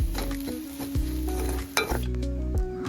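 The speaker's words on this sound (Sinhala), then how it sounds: "පොල් සම්බෝල දාලා කලවම් කරලා මේක පොඩ්ඩක් මලවලා ගන්න තමයි තියෙන්නේ" Coconut sambol being stirred and sautéed in a pan, a soft sizzle under repeated scraping and clinking spoon strokes against the metal, close and steady with a low background hum.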